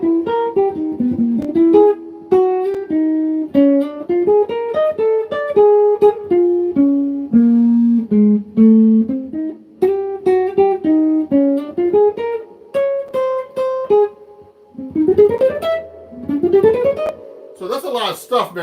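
A tune played slowly as a single-note melody line, close and clear, with stepwise runs and leaps, short pauses, and a busier, denser passage near the end.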